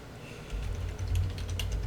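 Fingers typing on a computer keyboard, a quick, uneven run of close, soft key clicks over a low hum, with no talking.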